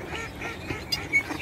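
A few soft duck quacks and honks sound faintly at a moderate distance, scattered over a low outdoor background.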